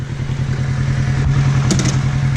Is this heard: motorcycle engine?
yes